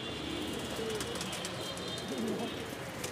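Homer pigeons coo in low, soft, warbling phrases close by against a steady background hiss, with a fighter pigeon and young birds kept nearby.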